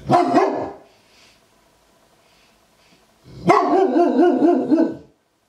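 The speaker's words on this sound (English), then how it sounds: "Now he's barking at me" A pet dog barks in two loud, close bursts separated by a quiet pause, the second run a rapid string of sharp repeated barks.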